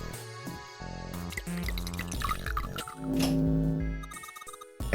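Water drips in the video game Zero Escape: Nine Hours, Nine Persons, Nine Doors, its plinks mixed with ringing tonal game sounds and music, moderately loud with no talking.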